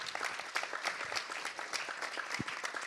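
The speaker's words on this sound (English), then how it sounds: "will everyone please join me in a final round of applause" A conference audience applauds the speakers after a talk on safe superintelligence, a dense, lively patter of many hands clapping at a steady, moderate level throughout.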